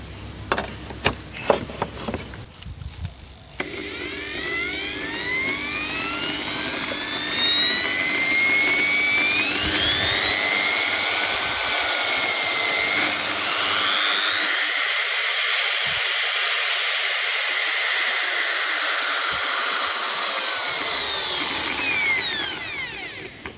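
After a few clicks, an electric drill run through a homemade DIY dimmer speed controller whirs up loudly, its motor pitch rising and falling as the speed changes, close and alone for nearly twenty seconds.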